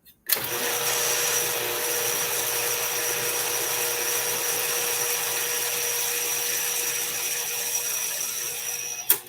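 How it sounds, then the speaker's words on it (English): An electric mixer froths flaxseed meal and water, a loud, steady whirring drone that runs unbroken for about nine seconds, starting and stopping abruptly with no talk over it. "we're going to froth up the flaxseed meal and water"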